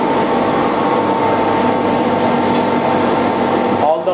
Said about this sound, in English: the fumes which are getting accumulated inside the machine will be thrown out using a blower